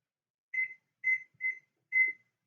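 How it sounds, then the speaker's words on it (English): A kitchen timer gives four short, clear electronic beeps at an even pace, close and isolated in an otherwise quiet room. "don't forget to set a timer"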